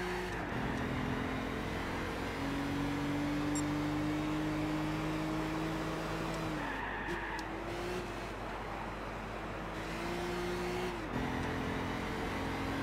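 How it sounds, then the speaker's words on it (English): A racing car engine in the video game Gran Turismo 6 hums and rises in pitch through gear changes, fairly quiet and steady, with a brief drop before revving up again. "Ah, this engine is just such a nice sound."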